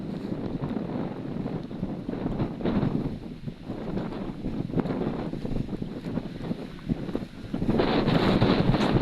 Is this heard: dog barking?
no